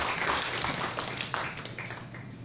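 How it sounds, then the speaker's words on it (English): A seated audience at the opening ceremonies of the Philippine APEC Study Center Network applauds to welcome a speaker, a steady patter of many hands at moderate level that fades slightly toward the end. "let us welcome with a warm round of applause, Dr. Gilberto M. Lianto."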